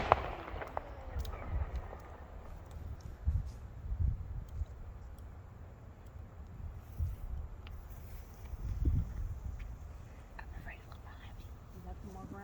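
Consumer fireworks, mortars and a ground fountain, going off at a distance outdoors at night, with muffled thuds and crackling bursts scattered over low wind noise while people whisper and talk quietly nearby.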